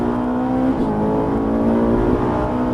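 A Ferrari 458 engine at full throttle on a racing circuit holds a steady, loud drone with a slight rise in revs, close by and continuous, with no talking.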